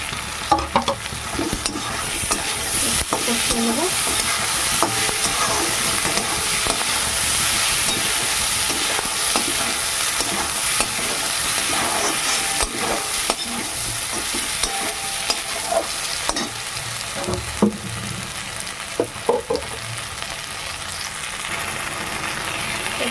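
Brinjal, onion and mango pieces coated in turmeric and salt fry in a pan. A loud, continuous sizzle runs throughout, broken by occasional stirring clatters.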